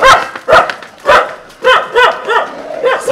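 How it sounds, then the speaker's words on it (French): Several dogs bark and yelp in rough, repeated bursts, close and loud, during a scuffle with cows on a street in Pushkar, India. "et là il y a une baston de vaches et de chiens."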